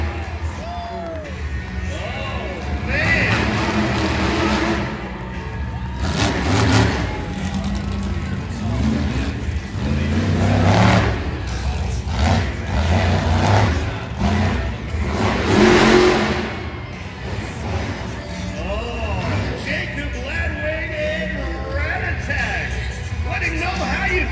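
A monster truck engine revs hard on an asphalt ramp at a live Monster Truck Insanity show in Puyallup, Washington, its loud, surging roar rising and falling through the whole stretch under an excited announcer and a cheering crowd.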